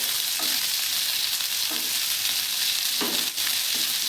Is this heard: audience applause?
no